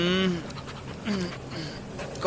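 A dog pants close to a man's face as he lies sleeping on a street, quick breathy puffs that come in short bursts with vocal sounds mixed in.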